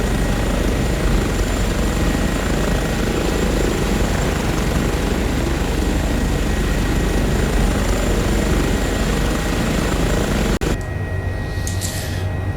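A video-game Airbus H145 helicopter's steady rotor and engine drone in Microsoft Flight Simulator fills the whole stretch at a constant loud level, then abruptly drops away near the end.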